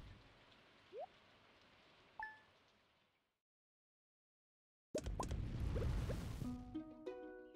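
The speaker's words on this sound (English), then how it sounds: "Oh, there's our rain day." Rain falls in the farming video game Stardew Valley, a steady hiss of drops with a few soft plops and chimes, then a pause of near silence before the rain returns louder alongside bright game tones.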